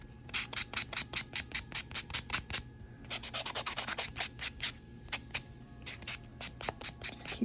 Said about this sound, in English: File it, and then we're going to give it a quick buff with our Mani Boss buffing block.